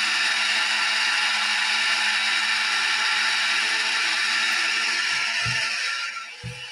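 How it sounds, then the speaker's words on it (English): A blender runs on high speed, emulsifying a butter sauce for sea scallops, producing a loud, steady whirring roar that holds throughout, then eases slightly near the end as a few low thumps come in. "you're going to want to blend this mixture on high speed using a plunger that comes with the blender"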